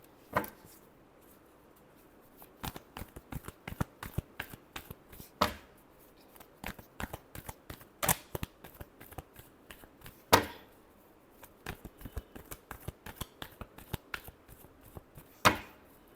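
Tarot cards being shuffled by hand, a rapid run of sharp riffling taps and slaps in uneven bursts with a few louder snaps, close and alone with no talking.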